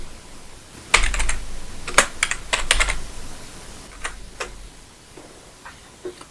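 Close, quick bursts of computer keyboard typing while entering text in the nano editor on Linux, with irregular clusters of key clicks separated by short pauses, no voices.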